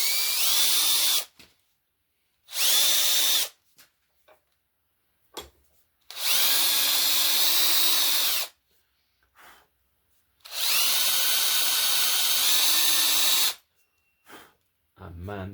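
Power drill boring into horn to form an arrow nock, cutting about three-quarters of an inch deep, in four loud whining bursts of a few seconds each, separated by short pauses with faint handling noises.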